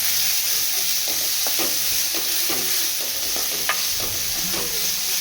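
Onions and sprouted horse gram fry in a pan for rasam, a steady close sizzle with scattered stirring scrapes and clicks throughout, no voices.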